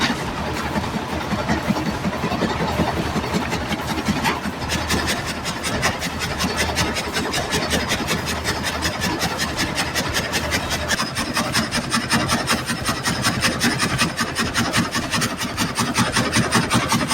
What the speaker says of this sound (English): The smooth, rhythmic sound of the saw, combined with an accurate guiding system, produces straight, clean planks